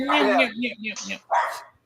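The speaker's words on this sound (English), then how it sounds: "My puppy's freaking out" A puppy named Bear lets out three quick, close bursts of high yapping barks mixed with whiny, whimpering tones, separated by brief pauses.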